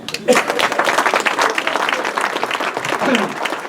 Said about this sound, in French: ces gens-là méritent nos applaudissements